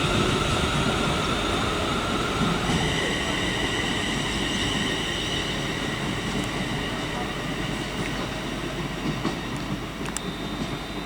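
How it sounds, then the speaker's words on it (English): London Northwestern Railway service to Birmingham New Street departs Birmingham International on the West Coast Main Line, steady rumble of a moving train with wheel hum and occasional squeals, close by, with someone talking over it. "going on now is the 11:23 London North Western Railway service to Birmingham New Street"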